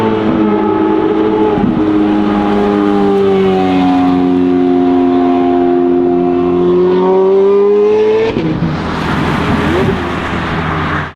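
Loud Ferrari engine revving hard while driving, harmonics climbing and holding for about eight seconds before a sharp shift into broader roar, close and continuous with no talk over it.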